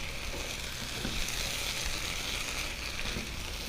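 Diced Roma tomatoes sizzle steadily in a hot pan as they are stirred, a dense, continuous frying hiss close by with faint scrapes, no voices.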